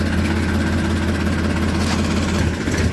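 A tractor engine runs at a steady idle on farmland, a loud, continuous low rumble with mechanical vibration that holds constant throughout, with no talking.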